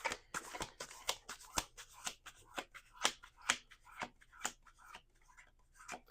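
Playing cards are shuffled repeatedly in a series of quick, crisp riffles and snaps close by, each burst sharp and brief, with no talking.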